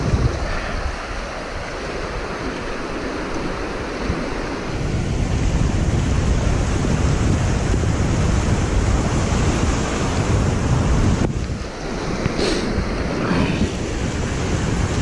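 Steady broadband rush of water pouring below the spillway at Brady's Run Park in Beaver County, Pennsylvania, on a chilly day with ice forming, continuous and fairly loud with some wind buffeting the microphone.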